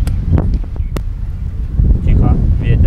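Gusty wind buffeting the microphone with a low rumble, steady and fairly loud throughout.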